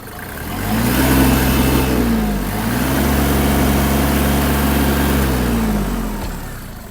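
A Kubota GL-261 mini tractor with a cab runs its diesel engine close up, revving from idle to a steady higher speed, dipping briefly, then holding before easing back down at the end.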